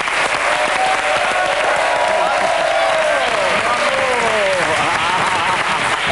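Loud, sustained studio audience applause for a guest joining a French television game show, steady clapping with cheering and a host's voice woven through the noise.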